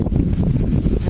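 Steady wind buffets the microphone outdoors near the water, a dense low rumble filling the brief moment with no other clear sound.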